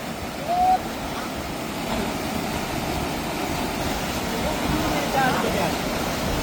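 A river flowing outdoors makes a steady, broad rushing wash throughout, moderately loud, with faint voices now and then in the background.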